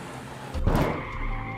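A car drives past in a film without stopping, its broadband engine and tire noise rising to a brief peak near the middle and then trailing off steadily.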